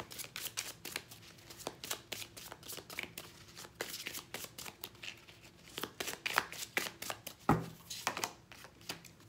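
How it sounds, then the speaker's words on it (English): Tarot cards being shuffled and pulled by hand: a quiet, steady run of soft riffling and papery slaps with sharper card snaps, close by and alone. "What you should manifest this new year. I'm going to pull three cards."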